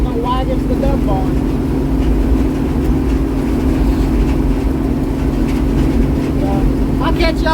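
Combine harvester with a 4-row corn head cutting through a cornfield: loud, steady engine drone and machinery rumble throughout, with someone speaking over it in the cab.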